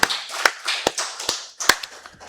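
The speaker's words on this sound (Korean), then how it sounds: "박수를 하나님께 영광 돌리겠습니다." A church congregation at Sunday worship breaks into applause, with a textured wash of clapping punctuated by several sharper, louder claps.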